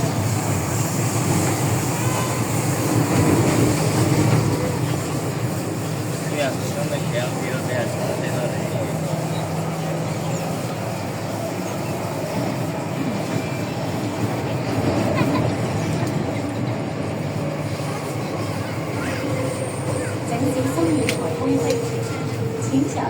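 An MTR Tsuen Wan Line train runs from Tsuen Wan toward Lai King, heard from inside the car as a steady rumble and rail noise, with voices talking over it.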